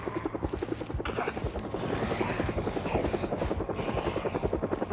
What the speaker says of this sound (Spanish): Y sí, eso era un helicóptero.